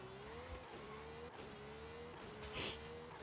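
A car driven off-road in Forza Horizon 5 gives a steady, moderately quiet engine drone with a slowly rising pitch, running continuously under faint game sounds.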